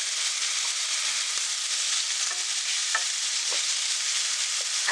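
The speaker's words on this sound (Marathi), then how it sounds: "मी कांदा, टोमॅटो आणि मिरची टाकते" Onion, tomato and chili sizzle steadily in a pan with ghee and oil, a dense continuous frying hiss with occasional soft stirring clicks close by.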